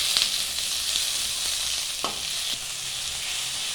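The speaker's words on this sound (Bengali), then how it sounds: "এখন দিয়ে দেবো টমেটোগুলোকে হালকা একটুখানি 2 মিনিটের মতো একটুখানি ভাজা করে নেব" Tomatoes and onions fry in a pan, a steady close sizzle with occasional soft stirring scrapes and a brief clink, no voices.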